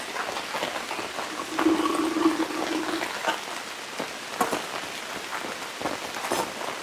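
Steady rain patters close by at a lakeside campsite, a dense continuous hiss with scattered drops striking a nearby surface, running unbroken throughout with no voices.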